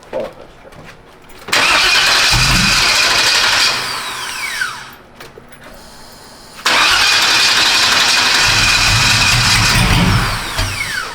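An LS-swapped OBS Chevy truck with a fresh starter cranks and fires up loudly, idles, dips to quiet, then restarts and roars again, with no talking.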